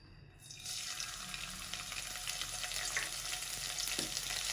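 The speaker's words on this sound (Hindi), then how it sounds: "बस इसको हमने हल्का सा सौते करना है, ज़्यादा नहीं पकाना।" Crushed garlic, green chili and cumin sizzle steadily in a pan over low heat, a continuous hissing fry with faint stirring, close and even throughout.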